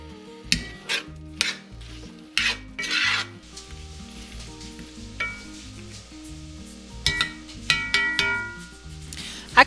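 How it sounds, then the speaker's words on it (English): Vegetables and minced garlic are stirred in a skillet, with a spoon scraping and clattering against the pan in irregular bursts over a steady low sizzle, close and fairly quiet. "Then I add in a scoop of minced garlic and mix it all together."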